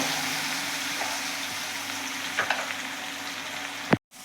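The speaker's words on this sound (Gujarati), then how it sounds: "આદુ મરચાં લસણ ટીચીને રાખ્યું છે નાખી દઈશું આને આપણે સહેજ બ્રાઉન કલર જેવું થવા દેવાનું છે" Crushed ginger, green chili and garlic frying in oil for a green peas curry, a steady close sizzle with a few stirring clicks, then a sudden clatter and cutoff at the end.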